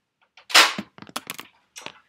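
A Nerf N-Strike Recon CS-6 blaster is fired close up with a sharp pop and a rattling spring and plunger, followed by a few quick mechanical clicks and clacks as it is handled. The shot is weak rather than forceful.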